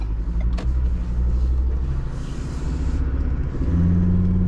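A 2016 Ford Ranger with wheel flares and spacers driving on the road: a steady, deep engine and tyre rumble from inside the cabin that builds as it accelerates, with a brief click early on.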